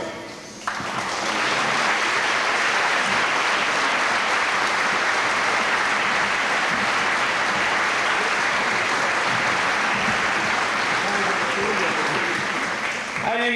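A hall full of guests at a 1997 high school football banquet breaks into sustained, dense applause, loud and steady for over ten seconds before tapering off.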